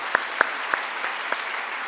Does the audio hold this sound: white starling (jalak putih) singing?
no